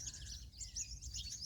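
Many small birds chirp and twitter from a bottlebrush tree, a steady overlapping chorus of high, bright calls at moderate distance with a low background hum.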